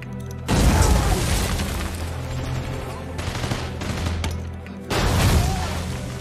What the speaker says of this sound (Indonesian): Aksi baku tembak pun tak terhindarkan.